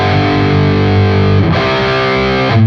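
Distorted electric guitar chugging the chorus riff to a song with continuous down-picking, album version, loud and dense, with chord changes near the middle and end and no voice.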